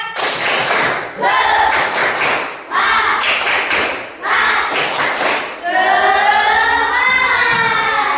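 Schoolchildren in a classroom do a rhythmic clapping chant, bursts of loud, rapid group claps in patterned rounds with pauses, ending in a sustained shouted voice call.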